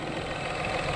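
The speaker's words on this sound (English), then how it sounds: "the engine idles perfectly fine" An engine idling smoothly and steadily, a continuous close rumble with no change in pitch and no talk.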